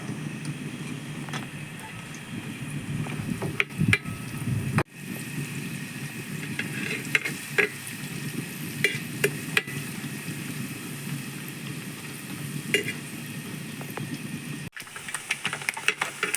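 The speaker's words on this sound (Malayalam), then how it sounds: "ഇപ്പൊ നമ്മുടെ നെയ്യെല്ലാം ചൂടായിട്ടുള്ള നമ്മൾ നേരത്തെ ചെറുതാക്കി കൊത്തി അരി വെച്ചിരിക്കുന്ന ഈ തേങ്ങ കൊത്ത് അതിനകത്തേക്ക് നമുക്ക് വറുത്തെടുക്കാം" Small pieces of coconut frying in hot ghee for a Kerala cassava payasam, a steady crackling sizzle close by with occasional stirring clinks and scrapes, no talking.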